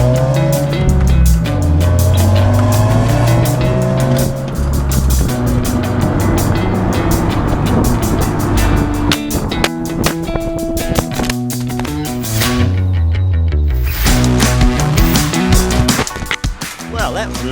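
A 2021 Subaru WRX with a manual gearbox being driven hard, engine revving up and down through gear changes with tire squeal, loud and steady throughout, with faint talk underneath.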